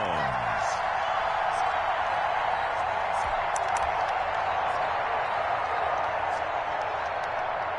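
Stadium crowd noise from an American football video game on PS4, a steady broad roar of cheering that fills the whole stretch without breaks, with a game commentator talking over it.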